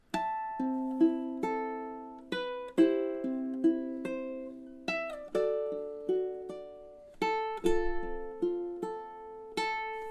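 Fingerpicked ukulele playing further measures of House of the Rising Sun, soft plucked arpeggios and chord hits in a slow steady pulse, notes ringing out cleanly with nothing else heard.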